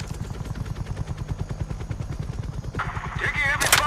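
Heavy automatic gunfire rattles in rapid, continuous bursts during a Call of Duty Black Ops Cold War cutscene, with a rising whine and extra noise building up near the end.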